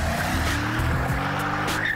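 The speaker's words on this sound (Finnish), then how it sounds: "Miehekkään kuminpolton saattelemana ala-ammattilainen lähtee liikkeelle." A car launching from a standstill at a drag race start, tires squealing and engine roaring as it pulls away, loud and close with no talk.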